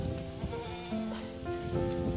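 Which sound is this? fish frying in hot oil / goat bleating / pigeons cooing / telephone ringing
goat bleating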